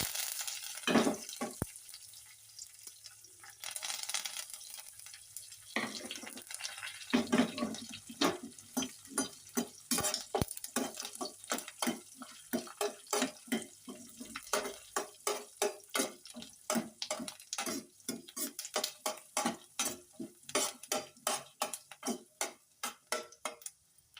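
Curry leaves frying in hot oil for a tadka in a pan while making tomato bath, with crackling sizzle and a dense run of sharp pops that grow more rhythmic and distinct toward the end, close up with no talk.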